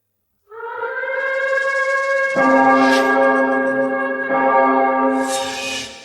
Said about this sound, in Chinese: 警报响了